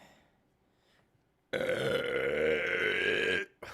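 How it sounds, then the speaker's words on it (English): One long, loud, deep burp rumbles close to the microphone for about two seconds and stops abruptly, with no talking around it. "burp 5. Sorry if I blasted anyone's ears with that."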